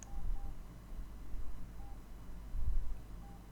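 CW Player practice software plays Morse code tones: a few short, faint single-pitch dits with long gaps between them, one pair coming close together, over low background hum.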